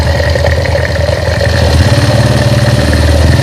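A motorcycle engine, just rebuilt and under an oil pump check, runs steadily close by as the throttle is blipped. The mid-pitched, slightly knocking note holds at a constant loud level throughout, with no talk.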